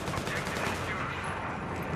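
Rapid automatic gunfire in the video game Battlefield 3, a dense continuous burst of shots with the player being hit, loud and unbroken for about two seconds.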